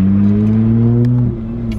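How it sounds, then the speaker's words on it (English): A Nissan Skyline R32 engine idles with a steady, rumbling drone and a slight rise in revs, close and fairly loud with no talk. "We're going to take Tommy's R32, which sounds like it's running better now"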